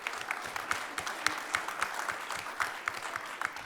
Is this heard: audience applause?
yes